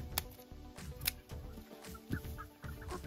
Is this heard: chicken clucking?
yes